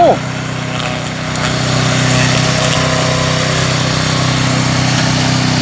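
A remote-controlled tracked lawn mower weighing 74 kg runs outdoors among tall trees, its small engine droning at a steady, loud, continuous pitch that rises slightly after a brief opening burst.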